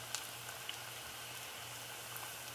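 Plantains deep frying in oil give a faint, steady bubbling hiss, with tiny pops scattered through an otherwise even, low-level sizzle.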